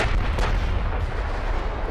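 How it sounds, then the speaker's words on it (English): Heavy booming of 17-inch naval guns firing in Ultimate Admiral Dreadnoughts, a deep, loud low rumble that rolls on throughout the short span without voices. "Another shot with the 17 inchers coming very soon here."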